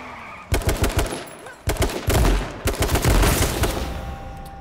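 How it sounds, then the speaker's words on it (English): Shotgun fire in the video game H1Z1 sounds in rapid bursts of loud, sharp blasts, clustered in several volleys with brief pauses and lingering rumble. "we pulled out a shotgun"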